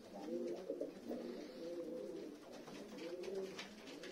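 Pigeons coo softly and repeatedly in low, rolling phrases close by, with no voices over them.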